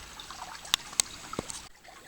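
Water trickles and pours while rinsing tar and oil remover gel off a swimming pool liner, a soft steady flow broken by a few sharp splashes and clicks near the end.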